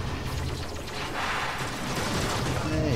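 Shotgun fire in a video game: dense, continuous blasts and booms with a rumbling low end, loud and sustained throughout, with faint voice traces underneath.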